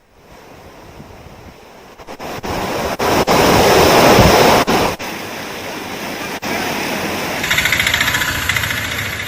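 Floodwater rushes through the streets of Tirupati after heavy rain, sweeping along scooters and bikes. It makes a loud, continuous roar with gusty surges and a few sharp breaks, heard without talk.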